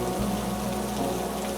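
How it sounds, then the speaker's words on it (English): Steady, dense rain falls on a roof in a rain-soaked town, a continuous close patter with no pauses or voices. "From up here, the rain sounds different, closer, more textured, more directly present"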